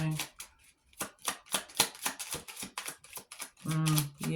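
A grandmother's deck of tarot cards being shuffled and handled, a quick run of close crisp riffling flicks, with a voice speaking briefly near the end.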